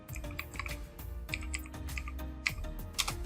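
Keys tapped on a computer keyboard while entering a Windows command-line command, a quick uneven run of clicks over steady background music, close and moderately loud.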